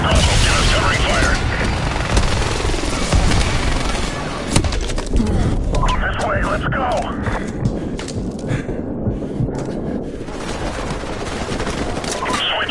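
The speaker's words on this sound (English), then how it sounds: "Bravo, get us covering fire!" Covering gunfire and explosions in a tank battle game: sustained loud automatic fire with heavy booms and thuds, a big blast midway, dense and continuous throughout, with shouted voices mixed into the battle din.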